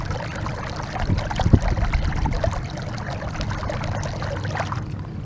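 Water pours steadily out of a French drain outfall with a continuous, moderately loud trickling and gushing flow outdoors.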